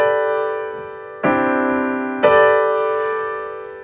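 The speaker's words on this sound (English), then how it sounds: "I can take this G here and make a cluster chord." Keyboard cluster chords built on G, with notes stacked closely together, are struck twice in a quiet room, each chord attacking sharply and then ringing and fading.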